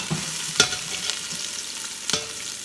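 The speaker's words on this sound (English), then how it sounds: "You really have to fry till the onion becomes soft." Onions fry in a pot for jollof rice, a steady close sizzle broken by a few sharp stirring scrapes.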